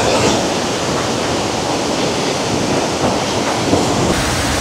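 Strong, clear waterfall in Prosperidad, Agusan del Sur, a loud, steady, unbroken roar of rushing water that fills the whole clip with no other sounds on top.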